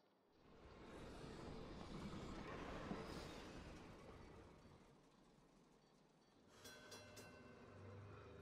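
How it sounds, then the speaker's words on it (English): A train arriving at a station in the puzzle game Gorogoa rumbles and clatters steadily for several seconds, then eases off as a short bell-like chime rings out near the end, with no voices. "you have to wait for the train to arrive at the purple station"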